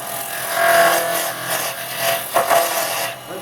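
A carbide chisel cuts into wood spinning on a lathe while turning a goblet, giving a close, continuous scraping hiss that swells and eases as the tool is pushed in, with a sharper catch near the end.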